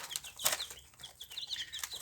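Chickens cluck and chicks peep close by in a farmyard, a faint cluster of short repeated calls with a brief flutter of wings.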